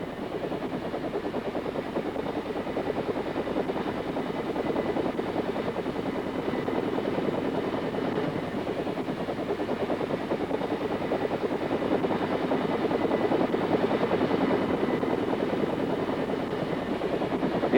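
An AH-1G Cobra gunship helicopter drones steadily in flight, its rotor and engine making a continuous, loud, even roar with a fine rapid chop throughout.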